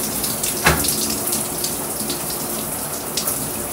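A shower runs steadily while someone washes their legs, a close, continuous spray of water with a faint splash or knock now and then.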